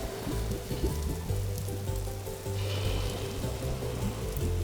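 Rain falls steadily in the video game Vintage Story, a soft constant patter over a low hum, with a slight shift in texture partway through.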